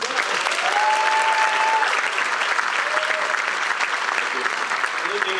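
An audience applauds steadily for several seconds at a 50th anniversary concert in Pittsburgh's Benedum Center, a dense wash of clapping with faint voices mixed in.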